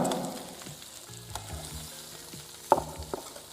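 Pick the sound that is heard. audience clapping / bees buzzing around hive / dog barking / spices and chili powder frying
spices and chili powder frying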